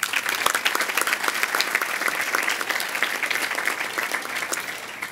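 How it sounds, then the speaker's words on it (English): Crowd at an award ceremony gives a loud, sustained round of applause for the sponsors, many hands clapping densely and steadily throughout, fading slightly at the end. "Can we also please have a round of applause for our sponsors?"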